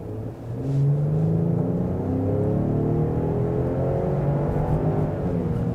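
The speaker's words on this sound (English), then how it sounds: "I could actually just hear it revving" A 2024 Lincoln Aviator Black Label SUV engine revs up steadily as it accelerates in Excite mode, a loud sustained drone rising in pitch and holding strong.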